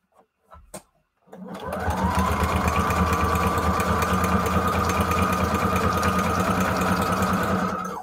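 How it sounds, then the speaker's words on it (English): A sewing machine stitching scraps of paper together, starting after a few light taps and then running as a loud, steady, rapid mechanical whir close by for several seconds. "Get all these little scrappy doos sewed up."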